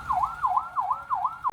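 Ambulance siren carrying a patient to Slamet Medical Center clinic, a wailing two-tone sweep repeating about four times in quick rhythm, loud and close, no talk.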